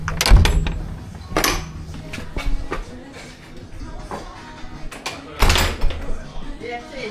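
A van door thuds open or shut at a seaside overnight camping spot, with loud broadband bangs at the start and again near the end, heard close and amid ongoing talk and background movement.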